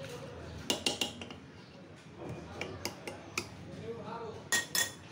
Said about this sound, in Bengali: এবার দেব 1/2 চামচ ঘি, এটা দিয়ে ভালো করে ঘেঁটে নেব ডালটাকে